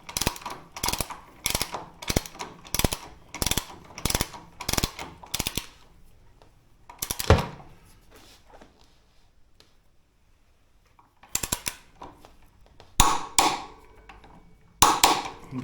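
A wrench tightens the front wheel axle nut on a Royal Enfield Himalayan while a 16mm spanner holds the axle. Bursts of rapid ratchet clicks come close by, then a quiet pause, then shorter clicking bursts.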